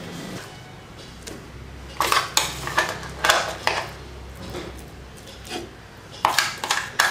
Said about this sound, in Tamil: இப்போ இதை வேறு பாத்திரத்துக்கு மாற்றிட்டு தாளிச்சிக்கலாம்.